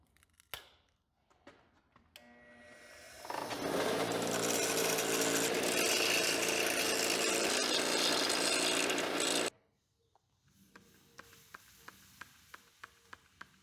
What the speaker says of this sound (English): cool down your bolts after grinding